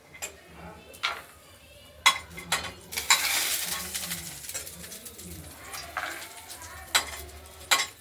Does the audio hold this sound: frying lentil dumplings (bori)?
yes